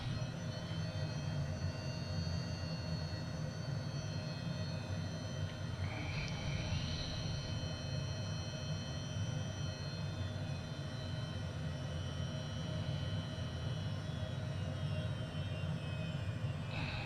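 HondaJet engines spool up as the throttles are advanced, a steady broadband jet roar with a constant low rumble heard from inside the cabin, and a faint rising whine comes through around the middle.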